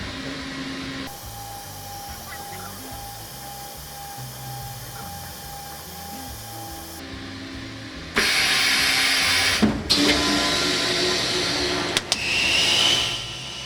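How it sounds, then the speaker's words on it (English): A vacuum packaging machine seals plastic in a fishing tackle factory: a steady low hum runs first, then a louder rushing, hissing pump roar takes over, broken by a couple of short clunks. "so you just saw Charles demonstrate our vacuum packaging method"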